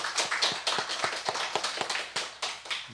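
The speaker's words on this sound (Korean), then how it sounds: "큰 박수로 우리 환영을 하겠습니다" A church congregation claps to welcome guests who came from Busan, a sparse, steady rhythm of distinct individual handclaps, fairly close and moderately loud, with no talking over it.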